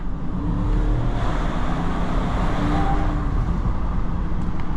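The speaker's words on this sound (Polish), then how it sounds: "dźwięk sześciocylindrowego diesla e, w BMW" A 2021 BMW X7 xDrive40d with its six-cylinder diesel pulling hard under acceleration, heard from inside the cabin as a loud, steady, deep drone with a dense low rumble and no break throughout.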